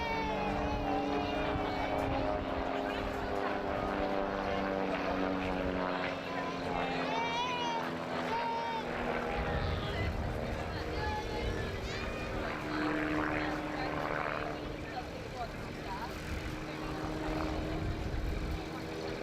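Propeller aircraft drone steadily overhead during aerobatic manoeuvres at the Wales Airshow, a sustained engine hum with rising and falling pitch, while a commentator talks over it throughout.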